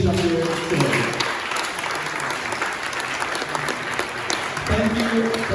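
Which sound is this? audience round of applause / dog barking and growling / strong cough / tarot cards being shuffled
audience round of applause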